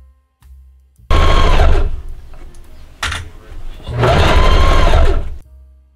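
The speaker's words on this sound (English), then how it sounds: "I'm going to sew together to create bias tape for the bottom hem of the jacket" A sewing machine stitches bias tape pieces together for a jacket hem, running in two loud, steady bursts of rapid whirring, separated by a brief pause with a few small clicks.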